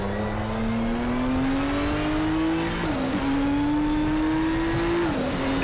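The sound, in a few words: race cars in the video game RaceRoom Racing Experience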